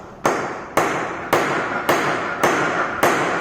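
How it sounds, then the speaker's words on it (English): A hammer strikes a metal workpiece during a fitting job, landing six sharp, evenly spaced blows, each followed by a short ringing decay, close and loud with no talking. "Slightly you have to hammer here"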